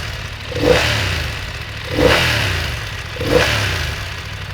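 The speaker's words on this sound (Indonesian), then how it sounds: "kalau kita geber, dia akan terdengar suara ngorok di bagian depan ini" A BMW F900R naked motorcycle with a liquid-cooled parallel-twin 8-valve DOHC injected engine blips its throttle three times at even intervals, each rev rising sharply then settling back to a rumbling idle, close by.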